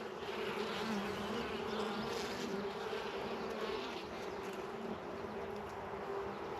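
A dense, steady buzz of many honeybees around an open hive fills the air continuously, a close, even drone with no voices.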